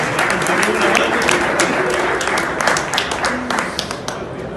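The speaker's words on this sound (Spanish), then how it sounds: "Fuerte aplauso para Franz Kammer." Audience applause at a MATELEC 2018 trade fair awards ceremony, greeting KNX Association president Franz Kammer as he comes up to present prizes. Dense, steady clapping from a large hall crowd fills the clip and thins slightly toward the end.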